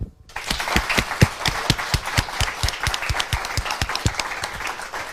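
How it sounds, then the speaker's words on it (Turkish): Audience applause at a Turkish talk show about migraine surgery: distinct, fairly sparse claps from a small crowd, each one sharp and near, continuing in an uneven rhythm before tapering slightly. "Alkış alalım mı?"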